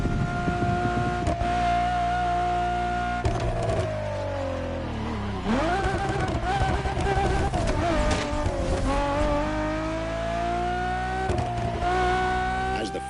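A Ferrari Enzo V12 in the racing game Motorfest, revving hard through repeated gear changes, its engine note climbing, dropping at shifts, then rising again, loud and continuous.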